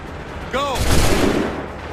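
A volley of muskets fired together by a firing line in Assassin's Creed III, one loud, sharp burst that rolls into a booming rumble, following a brief shouted voice.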